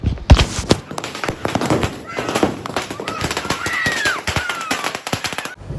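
Diwali firecrackers burst at night in a rapid crackling volley of sharp close bangs, followed by a rising whistle and scattered pops with voices in the background.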